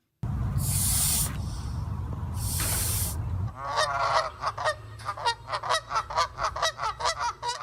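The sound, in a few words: Canada geese honking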